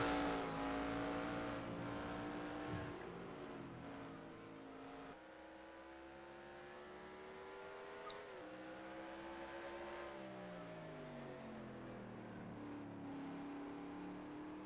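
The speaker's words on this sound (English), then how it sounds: "that car is struggling to get up to speed" A simulated race car engine in the NR2003 racing game drones steadily and loudly, its pitch rising slowly and sagging as the car struggles to gain speed, with a brief shift-like dip midway and no talking.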